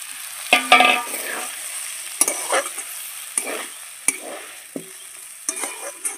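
Oats are tipped into a frying pan and stirred, giving repeated close scraping strokes and light sizzling, with a louder clatter as they go in and no talking.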